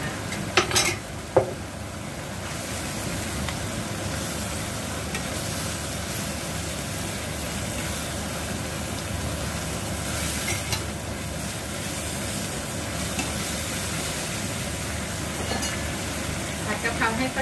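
Holy basil pork (pad kaphrao) stir-fries in a pan with a steady, dense sizzle, with a few clanks of utensil against the pan near the start and scattered scrapes throughout.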